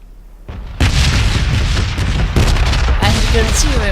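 Loud explosions and gunfire burst all around in the battle royale game Battlegrounds, with heavy booms and crackling blasts overlapping in a dense, continuous barrage.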